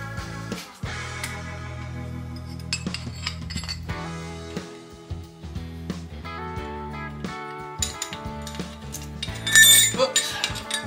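Metal piston ring compressor clinking and clattering during a Harley Evo engine rebuild with pistons and cylinders, a series of irregular bright metallic clinks and taps over about eleven seconds, close up, with a louder cluster of clanks near the end.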